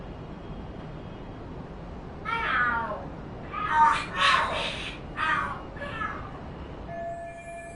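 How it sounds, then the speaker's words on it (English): Screeching cats fighting in a video game, with a series of harsh, wavering yowls and screams bunched in the middle of the stretch, heard at moderate distance over a low background hum. "Are there cats fighting?"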